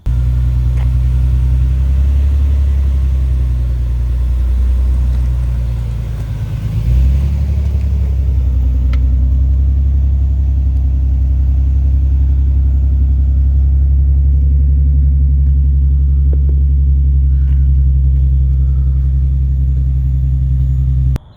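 A modified car's engine rumbles steadily at idle for about twenty seconds, deep and loud throughout, with a brief dip and surge partway through and no talking.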